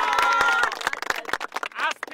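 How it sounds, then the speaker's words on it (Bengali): A group of people clap their hands in a quick, scattered burst under a voice and lively crowd noise, close by, lasting only a couple of seconds. "হাততালি দাও"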